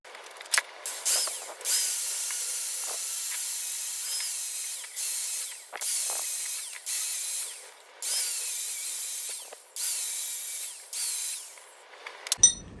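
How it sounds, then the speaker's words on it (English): A power wire wheel grinds down the spokes of a Suzuki DRZ400 motorcycle wheel with a harsh, high whirring. It comes in several sustained bursts of a few seconds each, separated by short pauses, and ends with clattering. "take the wire wheel, grind these things down"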